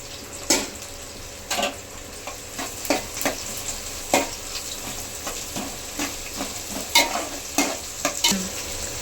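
Thinly sliced onions, three small ones, fry in a pan for a chicken khurma curry, giving a steady sizzle that is broken by repeated scraping stirs and clacks spaced a second or so apart, with no talk.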